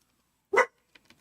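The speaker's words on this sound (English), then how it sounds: "Oh, there's my dog." A single short dog bark sounds indoors, moderately close, followed by a couple of faint yips or snuffles, with otherwise near silence around it.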